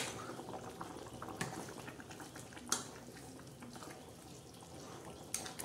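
A pot of yellow-spiced fish curry simmers quietly, with a soft, continuous bubbling and a few sharper pops or clicks at intervals, faint and without talk.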